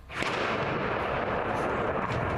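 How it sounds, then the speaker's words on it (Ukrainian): Continuous deep rumbling roar of distant artillery at the front near Bakhmut, a sharp thud near the start, then a sustained heavy wash of noise with no voices. "гуркіт артилерії"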